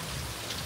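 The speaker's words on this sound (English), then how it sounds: "it's raining a lot" Steady heavy rain pours down on a street in Sydney, Australia, a dense continuous hiss with drops pattering on hard surfaces, alone and close.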